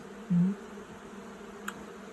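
A brief low buzz of honeybees on a hive of four to five frames, close and soft, followed by a faint hum in a quiet setting.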